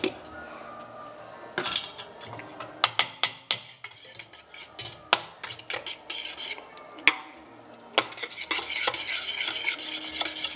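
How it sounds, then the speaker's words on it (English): A spoon scrapes and clinks rapidly around a pan while flour is stirred into melted butter for pecan pie brownies, close and busy, with a steady gentle sizzle underneath. "I'm just going to add in the flour, and you just stir the flour into the butter"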